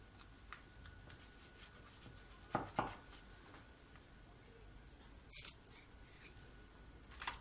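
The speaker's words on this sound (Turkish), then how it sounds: "Şimdi harfimi kesmeye başlıyorum." Knife cutting carefully around a cake letter, giving soft, faint scraping and cutting strokes, with a few brief sharper scrapes against quiet background.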